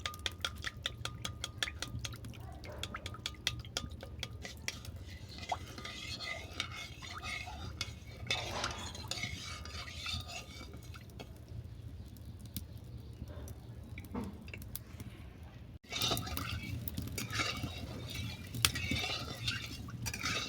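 A spoon stirs thickening sugar syrup with ghee, cardamom and food colouring in a pan, giving repeated soft scrapes and light metallic clinks at close range over a low steady background.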